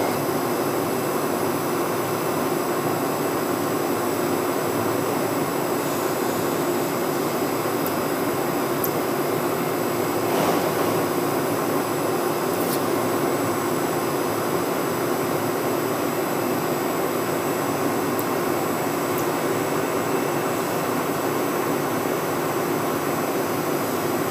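A Videojet inkjet printer with a pump fault running after nozzle cleaning, a steady loud mechanical whir and hum that holds constant throughout, with a few faint ticks scattered over it.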